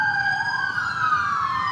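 Several emergency sirens wail at once, overlapping tones sliding in pitch, loud and nearby.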